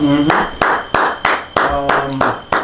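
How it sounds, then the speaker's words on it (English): Slow, steady hand claps, about eight sharp claps at an even pace, close and loud, with someone talking underneath. "Why are you clapping, bro?"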